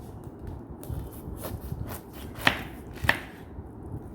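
A knife chops pineapple on a wooden board, giving a run of soft, uneven thuds with two sharper, louder strikes near the end, close by and with no voices.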